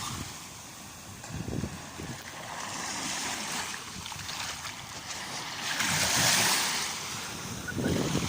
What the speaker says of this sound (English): Nice little splash there